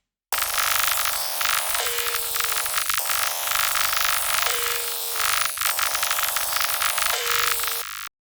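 A buzzy, robotic vocoder texture pulses with a repeating pattern roughly every second and a half, harsh and dense, playing alone without speech.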